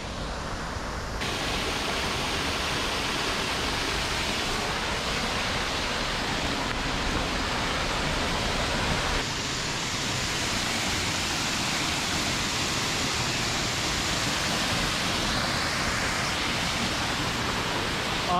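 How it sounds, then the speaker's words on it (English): A powerful waterfall in San Gil, Colombia roars in a constant, dense rush of falling water, loud and close, with no letup across the whole stretch. "I do remember it being a really impressive waterfall"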